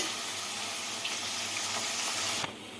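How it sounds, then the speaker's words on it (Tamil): Tamarind water pours steadily into an eggplant curry, a sizzling, watery hiss in a pan, continuous for a few seconds before cutting off abruptly near the end. "இப்போ நம்ம குழம்புக்கு தேவையான புளி ஊற்றிக்கலாம்"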